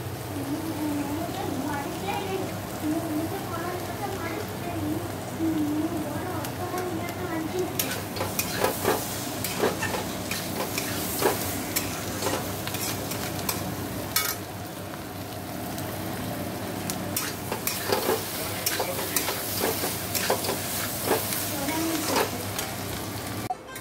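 Ingredients for a spice-free pabda fish curry sizzle steadily in a pan while being stirred, the constant frying hiss joined partway through by frequent scraping, clattering stirring strokes up close.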